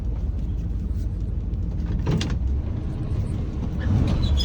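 A 1979 square-body truck rolling to a stop and being parked, its engine a steady low rumble throughout with a brief clunk partway through, close by and with no talk.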